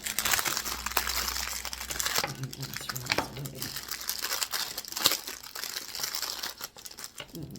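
Plastic bag crinkling while a small acrylic cosmetic scoop is unwrapped, with close, continuous rustling and crackling bursts that carry under faint talking.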